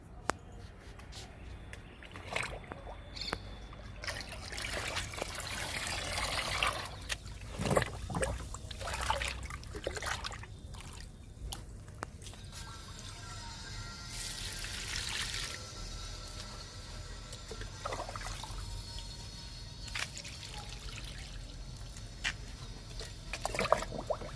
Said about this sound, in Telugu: మూడు మొక్కలకి లిక్విడ్ ఇస్తున్నాను